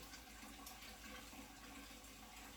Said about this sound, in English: now I'll put a little bit more water